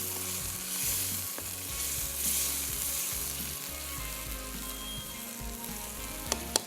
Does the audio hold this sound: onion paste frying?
yes